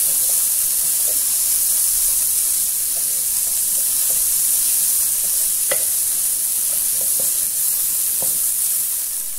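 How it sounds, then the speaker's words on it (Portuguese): Farofa frying in a Philco Redstone PPE04FS electric pan, a loud, steady sizzle and hiss with scattered small pops and crackles throughout, close up and with no voices. "Vou deixar fritar e quando estiver pronto, eu volto para continuar a receitinha."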